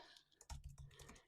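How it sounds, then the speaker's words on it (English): A computer keyboard being typed on close by, giving a short, quick burst of clicky keystrokes with no talking over it. "sorry for the typing noise"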